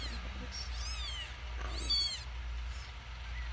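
A kitten lets out two short, rising-and-falling meows a second or so apart over a quiet low hum.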